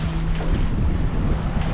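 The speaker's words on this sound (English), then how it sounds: "Got 10 to 12 knots of wind." Wind rushing past the microphone and waves washing along the hull of a sailboat cruising at about five knots in 10 to 12 knots of wind, a steady broad roar with gusty buffeting and no talking.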